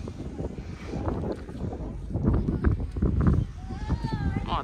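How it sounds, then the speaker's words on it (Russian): Strong wind on a cold day at an outdoor playground buffets the microphone in loud, rumbling gusts that swell in the middle, with a voice partly heard under it. "холодно сегодня очень, ветрено, скажем так"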